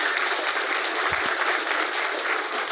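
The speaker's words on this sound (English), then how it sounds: "A round of applause for all those honourable mentions" An awards-event crowd gives an even, continuous round of applause, many hands clapping at moderate volume throughout the short stretch.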